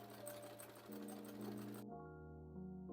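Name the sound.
sewing machine stitching a seam on a bag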